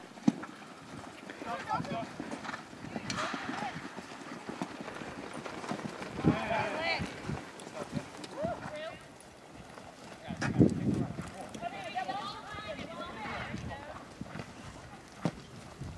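A horse moving along a wall in a riding session, with irregular hoof clip-clops and shuffling under frequent spoken instructions from a rider or trainer.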